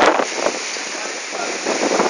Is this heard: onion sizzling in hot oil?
no